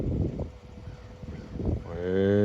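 A cow at a neighboring ranch gives a long, loud moo near the end, after a stretch of wind and outdoor rumble with faint distant lowing earlier.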